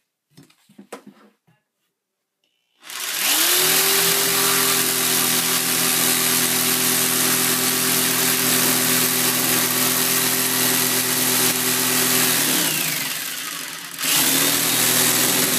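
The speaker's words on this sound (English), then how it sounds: "I have the jigsaw out, and I'm going to cut out that spot." A jigsaw cuts a hole through a workbench top with a loud, steady whine that runs for about ten seconds, drops briefly near the end, then starts again.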